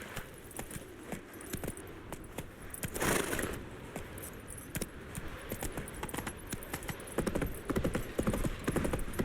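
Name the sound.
horse Roach galloping, Witcher 3 video game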